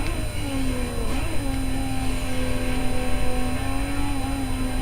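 A race car revs and accelerates in a racing video game, its engine note holding a steady, loud mid-pitched drone with slight pitch shifts over several seconds and no talk.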